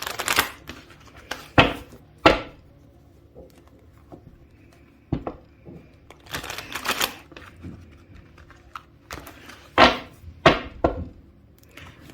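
A deck of tarot cards being shuffled by hand gives crisp riffling bursts and soft slaps spread across the stretch, close up and separated by quiet pauses.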